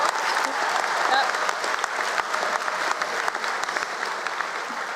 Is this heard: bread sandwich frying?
no